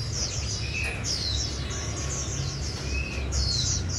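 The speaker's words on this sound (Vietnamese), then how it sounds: "Rồi mình qua tới dòng chim khoen nếp vàng nha anh em." Many caged khoen nếp vàng songbirds chirp at once, repeated high tweets and whistles overlapping in a steady, busy chorus over a low background rumble.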